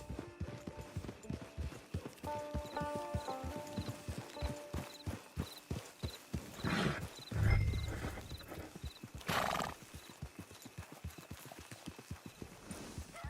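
Steady clip-clop of hooves, then a loud horse whinny and a snort over a soft musical backdrop, in the game Red Dead Online.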